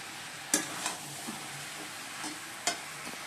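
Peas and potatoes stir-fried in a cooked paste of green chilli, cumin and coriander powder, a soft steady sizzle broken by a few sharp scraping stirs of a spatula in the pan.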